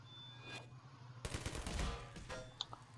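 Automatic turret gunfire in a video game, heard as rapid rattling bursts after a brief quiet start, with a couple of sharp clicks near the end; no voices.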